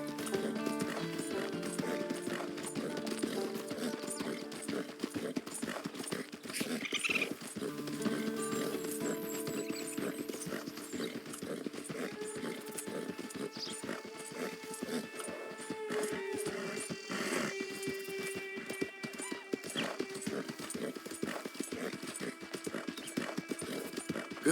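Horse hooves clip-clop at a steady walking pace throughout in the video game Red Dead Redemption 2, with soft tonal game sounds underneath and a faint voice at times.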